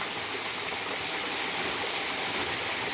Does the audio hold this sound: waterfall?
yes